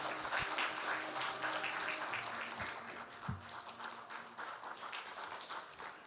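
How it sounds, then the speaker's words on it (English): Audience applause at the opening ceremony of the 10th IEVE greets a speaker coming to the stage, a steady wash of many hands clapping that stays fairly soft and distant for several seconds. "round of applause."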